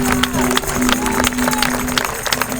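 Congregation at a national church convention applauds loudly together, a dense wash of clapping under a sustained musical tone, with some crowd noise mixed in.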